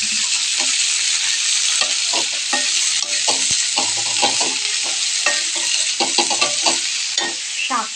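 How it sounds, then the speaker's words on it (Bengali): Leafy greens fry in a hot kadai with a dense, continuous sizzle. Frequent scraping clicks from stirring run through it for the full length, close and fairly loud, with no talking. "শাকটা দিয়ে দিয়েছি কড়াইতে চাপিয়ে।"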